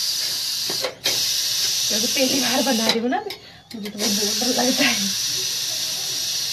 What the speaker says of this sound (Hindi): तो अभी तक तो जा रही है हमारे कुकर की सीटी